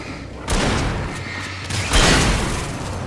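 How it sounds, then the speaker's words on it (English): A flashbang blast in the Alan Wake video game, a loud sudden burst with a thumping crash, followed moments later by a second heavy boom amid noisy background rumble. "Flashbang."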